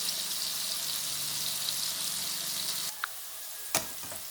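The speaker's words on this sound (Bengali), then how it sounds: "সবজিগুলো ভাজা হচ্ছে" Close, steady sizzle of vegetables frying in a pan, then it cuts off, followed by a couple of brief clinks and a short thud.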